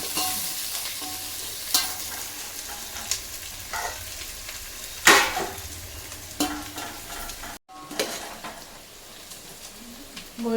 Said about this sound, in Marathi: कांदा ब्राऊन झालेला आहे बघा